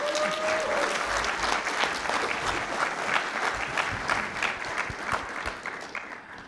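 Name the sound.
audience applause welcoming speaker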